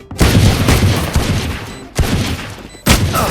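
Rapid bursts of gunfire from the tactical shooter game Valorant, three loud volleys at close range with brief gaps between them, no talk over the shots.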